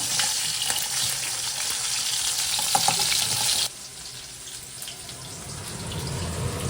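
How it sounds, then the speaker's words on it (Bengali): Fish frying in a pan gives a steady sizzle with small crackles and pops. The sizzle fades to a softer, quieter hiss partway through. "তো এই যে মাছটা ভাজতে শুরু করে দিয়েছি"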